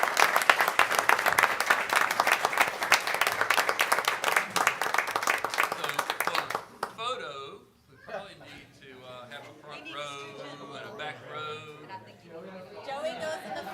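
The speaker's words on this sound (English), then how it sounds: "Please give everyone a round of applause." Audience applause at a school board meeting, brisk and dense for about six seconds, then fading out as people start chatting and laughing nearby.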